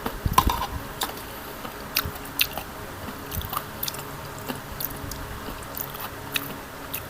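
Quiet, close crunching and chewing of crunchy food, with irregular crisp bites scattered over several seconds and no speech.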